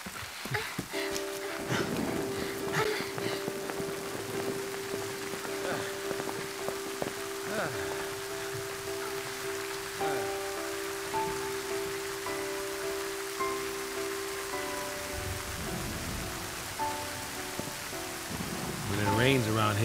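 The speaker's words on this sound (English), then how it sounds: "Around here it pours, and then it rains some more." Steady pouring rain in Final Fantasy XIII hisses across the whole stretch as a dense wash of drops on surfaces, with a sustained tone and scattered louder spatters beneath it.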